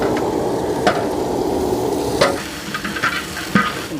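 Chili powder and masala frying in a large pot for wedding-style chicken dum biryani, with a steady sizzle under a few sharp scrapes and clanks of a spoon stirring against the metal.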